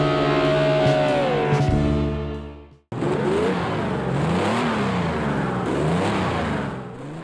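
Renault Sport RS GT3 race car engine in Project Cars 2 at Imola, a loud, steady roar with rising and falling revs through gear changes, a brief lift and cut near the middle, then hard acceleration resuming.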